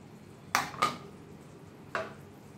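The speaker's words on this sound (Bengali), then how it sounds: "খুব ভালোভাবে মিশিয়ে দেবো পনিরগুলো গ্রেভির সাথে।" A spoon stirs fried paneer into gravy in a pan while cooking paneer rezala, giving three sharp metallic clinks, two close together and one a moment later, fairly quiet over a soft room hush.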